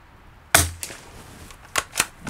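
A Rossi 8122 .22 LR rifle fires at a target, giving one sharp close crack followed by a few lighter clicks and pops from handling the action, heard alone without talk.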